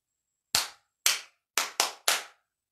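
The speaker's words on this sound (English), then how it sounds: "Five big claps." Five crisp hand claps close up in front of a circle-time leader's face, evenly loud, two spaced apart and then three in quicker succession, with no talking.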